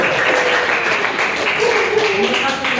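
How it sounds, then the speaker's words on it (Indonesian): A classroom group claps for the second presenting group at a teacher training session, a dense, steady round of applause mixed with chatter and voices throughout. "Kita berikan aplaus kepada kelompok kedua."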